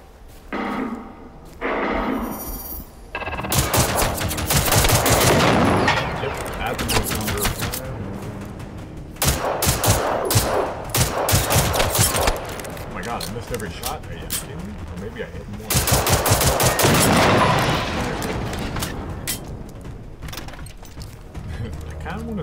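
Heavy automatic gunfire rattles in dense bursts at robots in the open-world shooter Generation Zero, several long volleys loud and close with pauses between them, while a player talks over the shooting.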